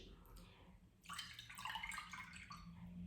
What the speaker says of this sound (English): So what I do now is I'll pour this into a glass dish